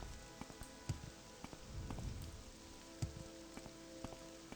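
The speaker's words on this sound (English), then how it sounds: "It is raining again." Quiet steady rainfall in Morrowind's game world, a soft hiss of rain on surfaces dotted with sharper individual drops landing at irregular intervals.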